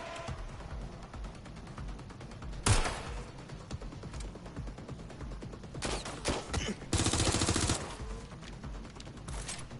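Heavy bursts of gunfire erupt in the Watch Dogs Legion video game, rapid volleys with a few louder shots standing out over continuous combat ambience.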